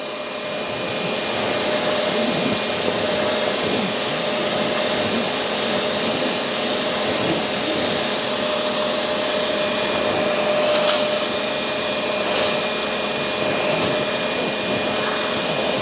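A BISSELL HydroSteam Pet 3432 carpet cleaner runs with a steady, loud motor whine and suction roar that hold constant for the whole stretch, heard alone and close.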